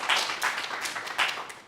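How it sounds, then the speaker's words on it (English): An audience at a talk on mind miracles claps in a short scattered burst, a few clustered rounds of hand claps rising and fading without voices. "Everybody give her applause."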